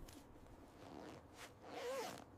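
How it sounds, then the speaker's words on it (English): A zipper on cold-weather mountaineering gear is drawn slowly and quietly on a windy Everest slope, a soft steady rasp that rises near the end over faint background wind. "Quietly, a zipper is pulled slowly to avoid ice jams."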